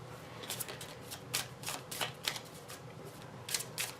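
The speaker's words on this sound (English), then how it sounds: "you're going to shuffle the regular impression cards and create a face-down deck" Deck of regular impression cards being shuffled during setup of a board game, a run of quick crisp riffling clicks and flutters, close and steady with no voices.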